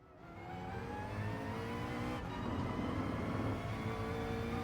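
McLaren VGT race car engine in Gran Turismo revving up and holding a high, rising whine with a dense harmonic drone, loud and continuous, briefly dipping midway as if shifting gear, with no talking.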